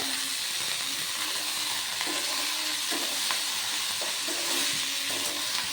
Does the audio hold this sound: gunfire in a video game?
no